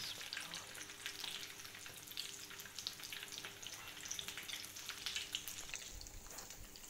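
Potato cutlets, aloo tikki, fry in a pan, a continuous soft crackling sizzle with scattered pops heard close and alone at a low level.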